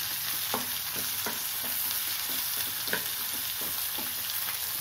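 Finely chopped tomato sautéing with green chilies in a pan for a coconut dal curry, a steady soft sizzle under regular light spatula scrapes, close and fairly quiet.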